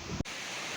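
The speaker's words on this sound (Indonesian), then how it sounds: "Angin banter Bun." Strong wind roaring during a storm while a kite is flown in the rain, a steady broadband rush after a brief thump, with no talk.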